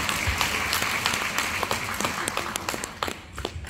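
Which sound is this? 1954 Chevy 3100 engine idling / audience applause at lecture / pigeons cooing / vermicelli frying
audience applause at lecture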